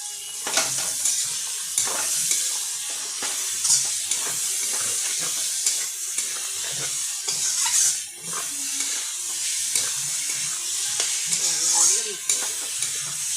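Onions and garlic fry in a pan with salt and turmeric, giving a steady close sizzle broken by repeated scraping stir strokes, with a faint voice now and then.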